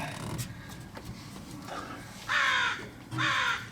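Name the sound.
crows cawing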